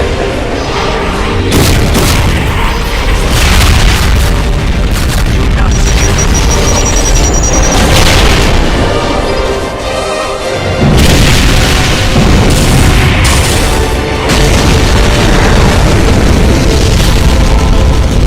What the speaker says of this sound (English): the ultimate attack, the giant nuclear explosive plasma bomb